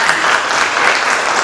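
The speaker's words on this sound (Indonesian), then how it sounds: "Ya, bagus, tepuk tangan." Students in a classroom clap together in a short, loud burst of applause, an even wash of many hands lasting about a second and a half.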